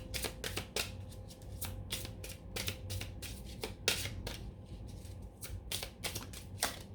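A deck of cards is shuffled by hand for a tarot-style reading, giving a rapid, steady run of close riffling snaps and flutters that continues throughout.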